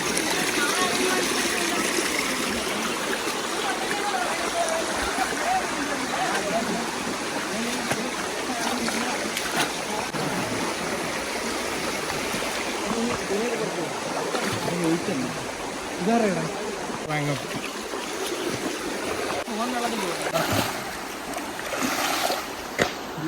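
Constant rushing of a waterfall in Tamil Nadu fills the whole stretch, with occasional splashes and voices talking over it.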